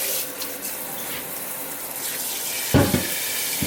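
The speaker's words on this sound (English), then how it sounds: "the water going in the pot just to cover it" Water runs steadily from a kitchen tap into a cooking pot, filling it just enough to cover the food, a continuous broadband rush with a brief louder splash near the end.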